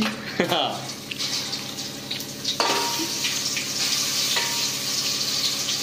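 Ground masala paste hits a hot pan and sizzles, a bright, hissing fry that jumps up sharply partway through and then holds steady, with people talking over it.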